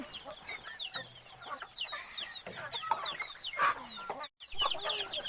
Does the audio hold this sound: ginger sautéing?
no